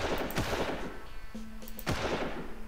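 Sniper rifle fire from the video game Far Cry, with two sharp loud shots about a second and a half apart over steady game ambience.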